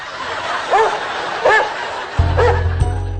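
A dog gives three short, sharp barks spaced evenly apart at close range, followed by a low rumbling hum and faint background noise.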